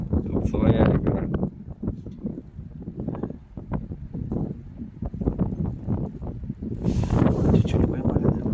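Gusty wind blows across a lake in Novosibirsk during a fishing outing, loud buffeting microphone rumble rising and falling in uneven bursts, with someone talking intermittently over it.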